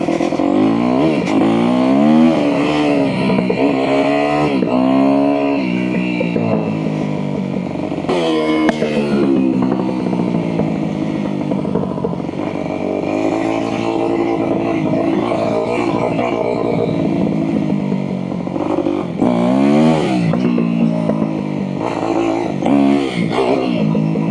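A non-road-homologated motorcycle engine revs hard in first gear, rising and falling in repeated loud, close whining pulls with clattery mechanical undertones throughout.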